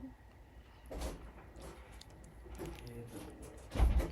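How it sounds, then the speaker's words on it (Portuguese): A door opens and closes somewhere in a house, a few soft thuds and slides at a distance ending in a louder close bump. "Tô ouvindo barulho de porta."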